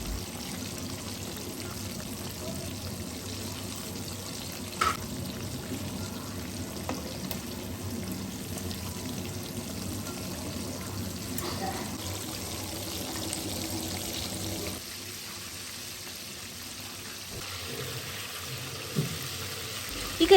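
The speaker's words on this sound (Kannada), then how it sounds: "ಈ ಥರ ಗೋಲ್ಡನ್ ಫ್ರೈ ಆಗೋವರೆಗೂ ನೀವು ನೀಟಾಗಿ ಫ್ರೈ ಮಾಡ್ಕೋಬೇಕಾಗತ್ತೆ" Chicken wings for crispy KFC-style hot wings fry in oil until golden, giving a continuous soft bubbling hiss that holds steady and then eases somewhat near the end, with a few faint knocks.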